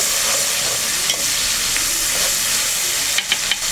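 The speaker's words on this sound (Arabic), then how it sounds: "هنبدا نقلب عليها بقيه الطماطم بتاعتنا" Tomatoes fry in a pan for an Egyptian-style pasta sauce, a dense, steady sizzling hiss close by, broken near the end by a few scraping stirs of a utensil.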